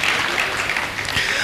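An audience at a Hindi comedy poetry event in Ajmer claps in a dense, continuous burst of applause that fills the short moment with no voice on top.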